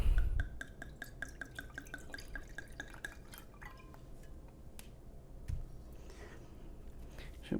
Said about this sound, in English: I'm ready to pour us a little glass of wine here.